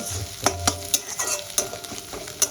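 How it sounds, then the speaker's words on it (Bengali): Onion slowly frying in a pan until browned, with a steady sizzle broken by several sharp clicks of a spoon or spatula stirring against the pan. "পেঁয়াজটা দেখো আমি আস্তে আস্তে সাদামি করে ভেজে নিই এখন বাদামি হওয়া পর্যন্ত"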